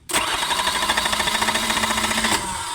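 An overhauled Isuzu 4BD1 diesel engine cranking without catching, a rapid, even chugging of the starter and compressions lasting a couple of seconds, loud and close, then cutting off.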